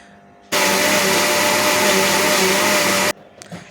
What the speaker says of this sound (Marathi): आता हे मिक्सरला मी लावून घेतलं आहे